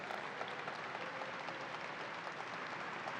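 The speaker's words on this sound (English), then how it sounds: "Let's give a round of applause to Richard Ball." Distant, faint applause from a crowd at the opening of the New York State Fair: an even wash of many hands clapping that holds steady without breaks.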